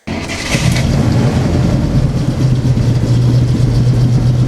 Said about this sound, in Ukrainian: Тепер гордо демонструє роботу двигуна.